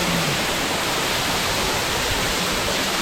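A waterfall near Munnar roars close by, a loud, unbroken rush of falling water with no voices over it.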